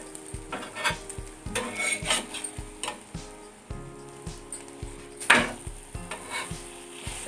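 Aloo lachha paratha cooking in ghee on a pan, a soft continuous sizzle broken by repeated light scraping and tapping of a spatula in a steady rhythm, close and fairly quiet, with no voices.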